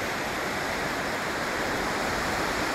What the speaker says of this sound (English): Up there is the waterfall